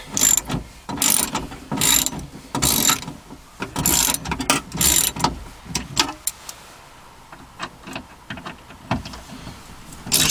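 Socket ratchet loosening T30 screws on a 2002 Dodge Caravan door during a power window regulator replacement, with repeated close clicking strokes in quick bursts and short pauses between them.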